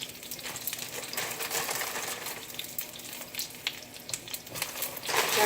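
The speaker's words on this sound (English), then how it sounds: "So I'm just going to sear these things." Frozen El Monterey chimichangas sear in a hot pan with a steady, loud, close sizzle and crackle of frying oil that runs throughout without pause.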